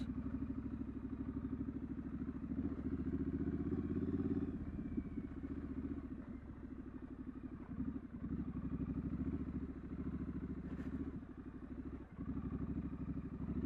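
A Triumph Street Scrambler engine thrums steadily at low to mid revs while riding off road through deep ruts, close and continuous with occasional clattering bumps.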